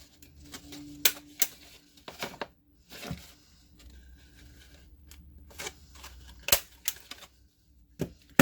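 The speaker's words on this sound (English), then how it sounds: "Again, I'm going to staple just to save some time." Paper for a spirit week hat being stapled: a scattered series of sharp, quiet clicks and snaps separated by soft handling noise, with no voices.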